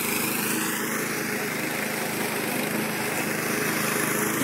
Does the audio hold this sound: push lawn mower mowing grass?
yes